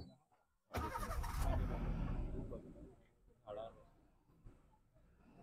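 A safari jeep's engine in Pench National Park turns over and runs as the vehicle backs up, a loud burst that settles into a low rumble before fading to a quieter idle, with people talking nearby.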